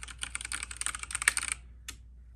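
Typing on a Logitech G513 mechanical keyboard with GX Brown switches: a quick run of close, crisp key clicks for about a second and a half, then a short pause and one last keystroke.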